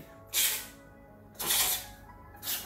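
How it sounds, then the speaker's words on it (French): Three bursts of harsh crackling hiss, each swelling and fading with short gaps between, like sputtering electric sparks. "C'est le bruit de l'électricité."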